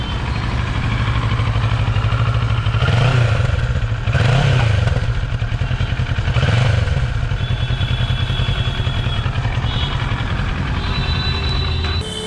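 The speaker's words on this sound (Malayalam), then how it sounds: "ഇതിൻ്റെ എക്സോസ് നോട്ട് കൂടി ഞാൻ കേൾപ്പിച്ചു തരാം" A 2024 Kawasaki Versys 650 motorcycle idles with a steady low exhaust rumble, revved three times in quick swells before settling back to idle; no talking.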